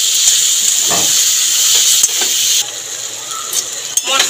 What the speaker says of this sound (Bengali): দিয়ে মশলা দিয়ে ভালো করে কষিয়ে নেবো এবার আলুটাকে আর গাটিটাকে।